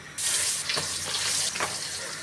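Pabda fish sizzle loudly in hot oil in a wok, a steady, close, bright crackling hiss with a couple of brief louder bursts as the pieces settle.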